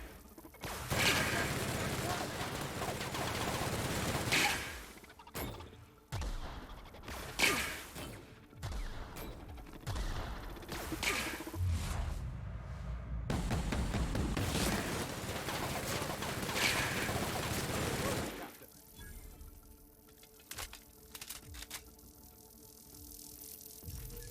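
Video game combat in Outer Worlds with grenades launched at an enemy, bursts of loud blasts, whooshes and mechanical clatter over about twenty seconds, then quieter ambient tones near the end.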